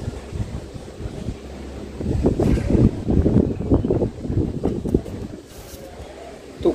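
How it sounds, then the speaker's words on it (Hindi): Wind gusting outdoors under a cloudy sky before possible rain, a steady rumbling buffet on the microphone that swells in the middle and eases off toward the end. "अभी हवा चल रही है तो मौसम अच्छा है"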